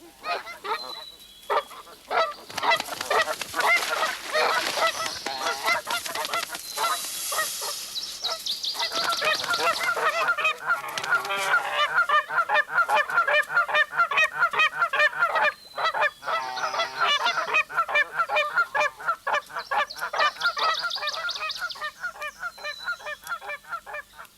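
A flock of geese honks loudly and persistently, overlapping calls rising and falling in a noisy chorus for a long stretch.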